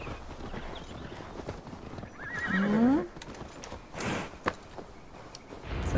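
Horse hooves clip-clopping at a ride with a loud neigh partway through, from Assassin's Creed Valhalla; steady footfalls continue around the whinny, fairly quiet overall, with no talk.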